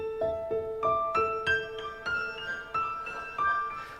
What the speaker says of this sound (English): so the second part in the piano sounds like this